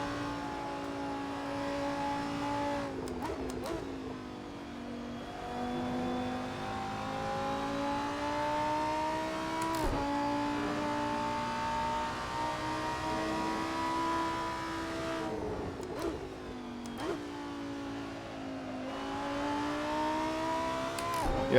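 Lamborghini Super Trofeo race car in a sim racing game at Donington Park, its engine droning loud and continuous with rising revs and sharp pitch drops at gear changes.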